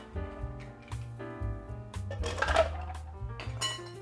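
Ice going into a cup of brown sugar milk tea makes a run of light clinks and rattles, close and fairly quiet, with short bright impacts spaced through the moment.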